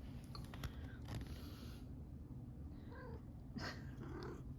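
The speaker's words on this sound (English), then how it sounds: "Wait, look at that kitty." A cat meows in a few short, faint calls, one around the middle and another near the end, over a steady low background hum, with soft clicks early on.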